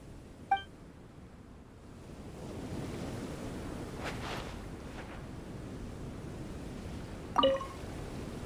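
Ocean waves and wind in a video game seaside scene: a soft, continuous surf and wind wash that rises after a quiet start, with a couple of sharp bright clicks near the beginning and the end.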